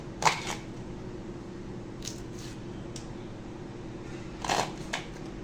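A knife chops drumsticks (moringa pods) into small pieces, a few separate crisp cuts spaced unevenly across a quiet kitchen, two or three of them sharper and louder than the rest.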